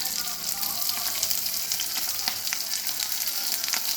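Onion, green chilli and ginger fry in a pan with a steady, close sizzle and crackle that holds throughout, with occasional faint stirring.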